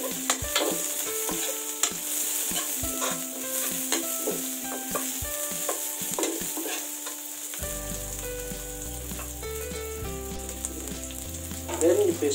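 Garlic and onion are stir-fried in a pan with a loud, close sizzle and repeated clinks and scrapes of a utensil, while music with a steady beat plays in the background.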